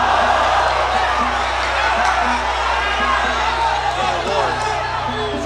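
A boxing arena crowd in a bout between a Mexican and a Filipino fighter gives a brief roar and scattered whoops under an announcer's ongoing commentary.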